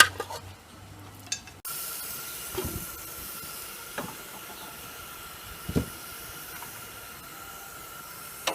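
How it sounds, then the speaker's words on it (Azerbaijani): Water boils in a cooking pot with a continuous soft hiss and bubbling, broken by a few faint bumps and clinks nearby, with no voices. "Suyumuz da qaynayır."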